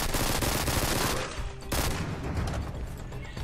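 Rapid SMG bursts from the video game Livalink, a dense loud stream of gunfire that briefly eases mid-burst before resuming full intensity.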